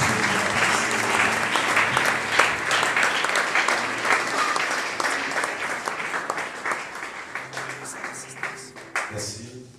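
An audience at a book launch applauds to welcome a pastor to speak, dense sustained clapping from many people that gradually thins toward the end, with faint murmurs underneath.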